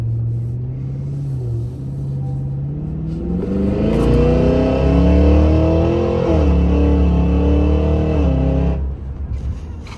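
A 2023 Cadillac Escalade V SUV engine revs up and accelerates loudly and close, with exhaust pops, its deep rumble climbing in pitch before easing off near the end.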